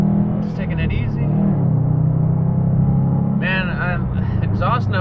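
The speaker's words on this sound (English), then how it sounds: "That exhaust note is just not what I expected." A 2018 Subaru STI drones steadily from inside the cabin while cruising in traffic on the I-35 highway, a constant low exhaust rumble throughout, with someone talking over it near the end.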